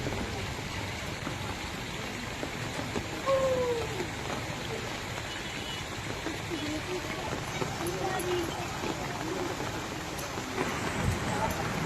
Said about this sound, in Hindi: सावन की सबसे पहली बरसात आज ही पड़ी